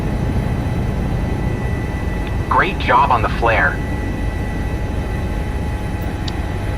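An HPG H145 helicopter in the MSFS 2024 flight simulator hums steadily after landing, a constant broadband engine and rotor wash. A voice speaks briefly over it partway through.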